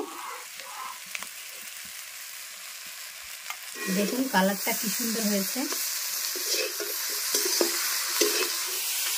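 Fish sizzling steadily in a pan with cumin powder and salt, a continuous broadband frying hiss with occasional stirring clatter, while someone talks briefly over it partway through.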